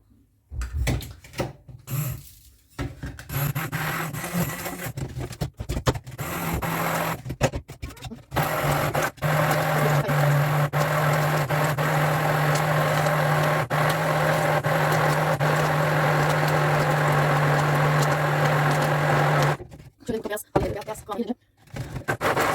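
Eggs and sugar are beaten with an electric mixer for a cake, a steady motor whir running for about ten seconds between bursts of handling noise, bumps and knocks at the start and end.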